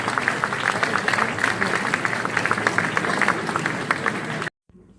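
An audience in a concert hall applauds a composer, a dense, even wave of many hands clapping for several seconds before it cuts off abruptly.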